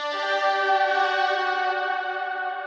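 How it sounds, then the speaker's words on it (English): An octave-up synth layer drenched in heavy reverb holds a bright, sustained harmonic chord that shimmers and slowly decays, with no voices. "I'll bring that up an octave and I'll add a ton of reverb to it"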